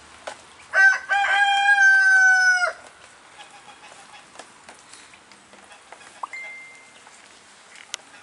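A young rooster crows once, loud and close, in a village-style yard full of chickens and geese, followed by scattered soft clucks and faint background bird noises.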